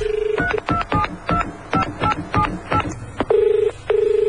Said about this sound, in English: let me call Simon to see if he can help